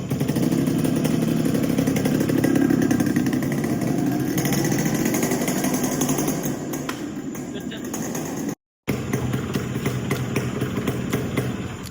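A Yamaha RX 100 motorcycle engine runs steadily after a kick start, a loud, rough, buzzing drone close by that thins slightly toward the end and cuts out for an instant midway.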